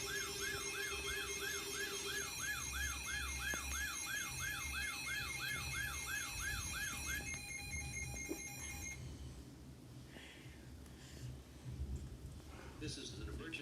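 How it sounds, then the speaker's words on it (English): Weather radios blare an emergency alert with a warbling, rising-and-falling siren tone over a steady tone, loud and continuous for several seconds before cutting off, with a voice and background noise following. "Oh, here goes the weather radios."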